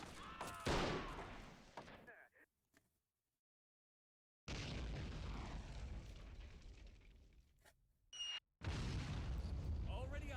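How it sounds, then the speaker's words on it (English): Artillery shells explode in a World War I trench battle at Belleau Wood, heavy booms and rumbling blasts in bursts with a sudden silent gap between them. "See if we can also direct the artillery right on that position"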